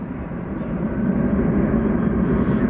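A Boeing 747 departing DFW for Grand Junction at night gives a low, swelling jet rumble that builds gently over a couple of seconds, heard alone from some distance.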